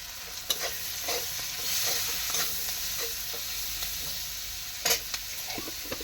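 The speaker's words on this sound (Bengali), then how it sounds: "কাঁচা লঙ্কা পেঁয়াজ দিয়ে একদম ভাজা ভাজা" Green chilli and onion frying in a pan, a continuous sizzle broken by repeated stirring scrapes and a few sharp clatters, close and without talk.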